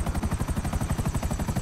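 Police helicopter in the video game GTA 5 Online, its rotor chopping in a fast, steady, loud rhythm up close for under two seconds.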